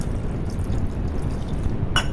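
Water poured into a pot of beef sukka with ginger and garlic, a continuous close liquid splash and trickle, with a brief bright clink near the end.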